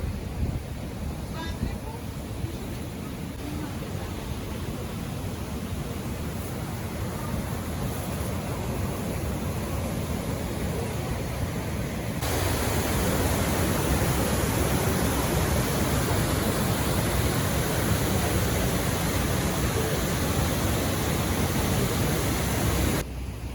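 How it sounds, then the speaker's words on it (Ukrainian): A waterfall at Yaremche in the Carpathians roars steadily as a broad, dense rush of falling water, getting louder halfway through, with some speech partly buried under it. "взимку цей водоспад більш повноводний"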